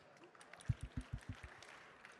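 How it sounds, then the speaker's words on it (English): Brief scattered clapping from an awards ceremony audience, a handful of sharp claps in quick succession that fade out after about a second. "we can clap"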